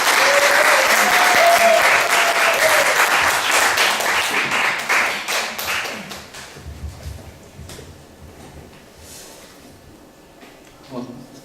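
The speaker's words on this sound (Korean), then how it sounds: "우리 선교사님 나오실 때 크게 박수로 환영하겠습니다." A church congregation applauds loudly to welcome a missionary, with dense, sustained clapping that gradually thins and fades over about six seconds, leaving a quieter room with faint movement and a voice.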